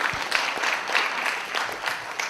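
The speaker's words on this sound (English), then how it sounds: "we'll just clap for Heather anyhow" An audience at an art conference introduction claps briefly for a curator, a short burst of scattered hands clapping at moderate volume with uneven rhythm.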